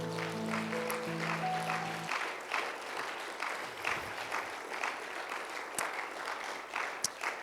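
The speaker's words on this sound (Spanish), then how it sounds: "¿Puedes darle un fuerte aplauso al Señor?" Congregation applauding in church after a prayer, a steady wash of many hands clapping after a held musical chord fades out, moderately distant and even, with a few sharper claps standing out.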